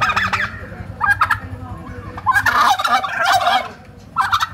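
A large turkey gobbles in several loud, close bursts with short pauses between them, alone with no talk.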